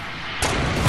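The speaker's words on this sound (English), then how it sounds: "They're shooting rockets at us." A rocket launches in the Fortnite video game, a sudden loud whooshing blast that cuts in partway through and sustains a broad roar to the end, near and alone.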